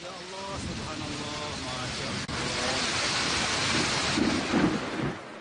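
Heavy rain with storm winds and thunder, a broad steady roar throughout with a sharp break near the middle, and a voice speaking briefly near the start.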